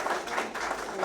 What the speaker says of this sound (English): A big round of applause for both Lynn and Teresa for their work.